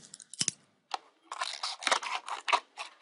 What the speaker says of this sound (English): So I'm just cutting off all the waste of the acetate.